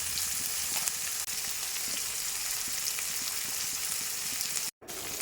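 Chopped onions frying in oil left from frying fish, with bay leaf and radhuni, a dense steady sizzle close by with faint stirring crackles and a momentary dropout near the end, no talking.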